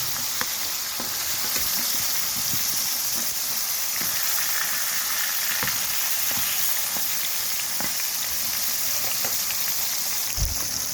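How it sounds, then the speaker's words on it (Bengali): Pieces of rohu fish fry in hot oil in a wok over a village cooking fire, giving a loud, constant sizzle and hiss with scattered crackles and an occasional soft knock. "মাছটা হালকা করে ভেজে নেব।"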